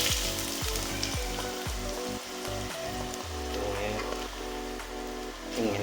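Onions frying in a pan on an induction cooker, a dense close sizzle and crackle with a run of quick scraping stirs early on, then a steadier hiss.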